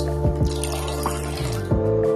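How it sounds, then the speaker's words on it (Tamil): Water is poured into a cooker over potatoes and peas, with splashing, dripping, liquid sounds against a steady tonal hum, close and moderately loud. "கூட தண்ணி ஊத்தி நல்லா வேக வச்சுக்கலாம்."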